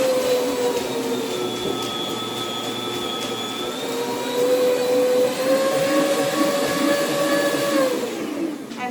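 A home meat slicer runs steadily as it slices deli meat, giving a continuous whirring motor hum with a rising whine, close and loud throughout with no talking.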